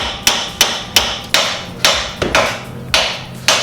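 A hammer strikes a seized coilover part on a Mazda 3 in about ten sharp metallic blows at a fairly steady rhythm, each ringing briefly before the next, loud and close with no talking.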